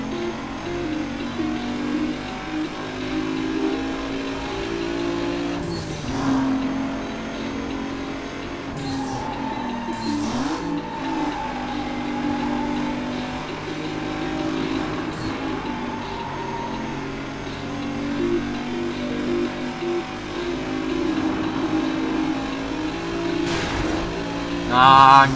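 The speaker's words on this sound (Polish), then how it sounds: "Teraz to Toyota tu się może rozpędzić." A Toyota accelerating in a Need for Speed Most Wanted race, a continuous loud engine drone that rises and shifts in pitch, with brief whooshes and a sharp burst at the end.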